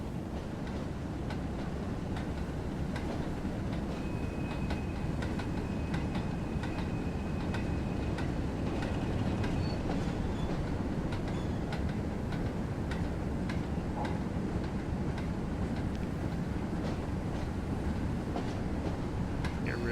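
Locomotive running on the Manchester to Leeds route in Train Sim World, a steady rumbling rail drone with regular clicking beats and a brief faint tone, continuous and fairly loud throughout.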